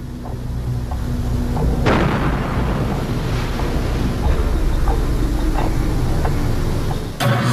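Deep, heavy booms of explosions rumble repeatedly, one sharp blast standing out early and another near the end, over a continuous low roar.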